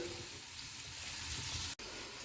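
Onions frying in a pan for egg curry, a steady close sizzle running throughout, with a brief dropout near the end.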